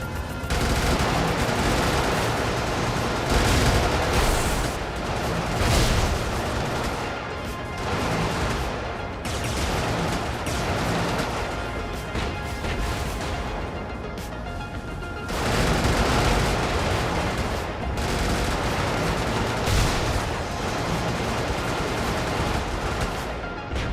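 Turrets firing in a chaotic action video game, loud sustained rapid gunfire and explosions rolling on without pause, with brief lulls and renewed bursts.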